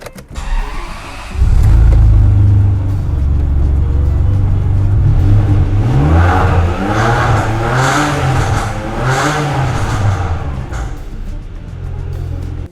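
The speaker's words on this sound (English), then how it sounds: "So now we're gonna start the car." A Ferrari that had trouble starting cranks and fires up with a loud burst, then idles before being revved repeatedly in rising and falling swells, close and alone.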